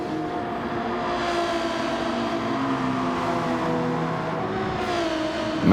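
Race car engines from a McLaren and an NSX in a Gran Turismo 7 BTCC replica league race drone and whine steadily throughout, a continuous loud mechanical roar with shifting pitch and no pauses.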